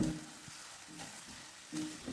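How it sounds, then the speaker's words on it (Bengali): Chicken kofta frying in a frying pan, giving a steady, close sizzle with faint stirring bursts that swell near the start and end; no talking. "এটা আমি ফ্রাইং প্যান দিয়ে দিয়েছি"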